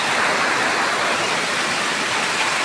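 Heavy rain pours down steadily in a dense, loud, unbroken wash of noise outside a small shop, with no voices over it.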